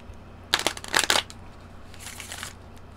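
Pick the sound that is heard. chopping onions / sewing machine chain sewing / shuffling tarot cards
shuffling tarot cards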